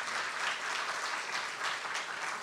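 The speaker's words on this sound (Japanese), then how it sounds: "皆様今一度リンダ・グラトン先生に大きな拍手をお願いいたします" Symposium attendees give a lecturer, Lynda Gratton, a big round of applause, a steady, even wash of many hands clapping at moderate volume throughout.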